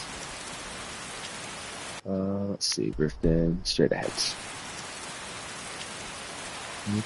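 Steady rain hisses through Skyrim on the road toward Riften. The rain is constant and close, cuts out briefly while someone speaks and a few in-game sounds chime, then resumes unchanged.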